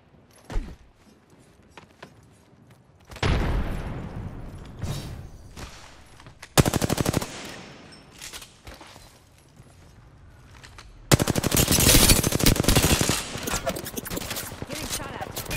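Video-game gunfire, with R-301 rifle beams and shots coming in, arrives in loud automatic bursts and rattling volleys separated by quieter stretches of movement and thuds, with occasional talk in between.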